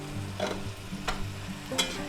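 Peppers and onions cook in a cast iron pan, a close steady sizzle with a few sharp stirring clinks and scrapes over a low hum.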